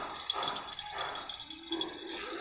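Fish dropped into hot oil, cooked on a brick, gives a steady, faint hissing sizzle with light crackles throughout, and no voices.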